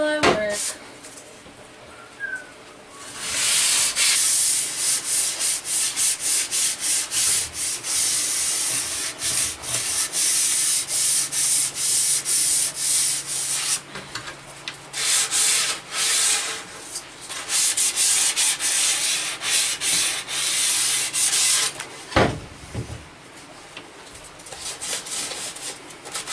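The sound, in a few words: hand sanding wood furniture before wipe-on polyurethane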